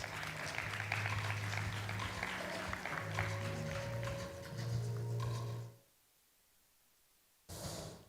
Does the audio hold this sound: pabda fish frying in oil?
no